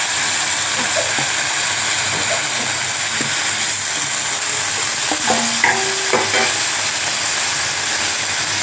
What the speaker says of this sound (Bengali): এখন আমি তেলের মধ্যে ওলের ডাটা সিদ্ধ দিয়ে দেবো